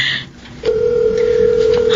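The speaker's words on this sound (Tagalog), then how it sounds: "Ayun, nagri-ring na" A cellphone call ringing through a handset: after a short pause, a steady, loud electronic ringback tone starts and holds, alone and without talk.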